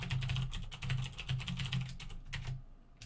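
Rapid keystrokes clatter on a computer keyboard while Java code is written: close, fast, irregular bursts of clicky taps with short pauses, and no voices.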